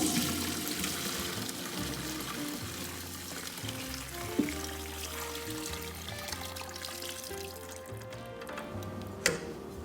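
Homemade bone broth pours steadily through a sieve, a continuous close liquid rush with faint trickling and a couple of small clinks near the end.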